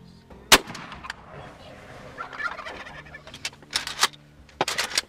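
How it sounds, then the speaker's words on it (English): A single sharp shotgun blast rings out near the start during a turkey hunt, followed by outdoor rustling and a few later sharp bursts of noise, with no voices. "Jayme shot"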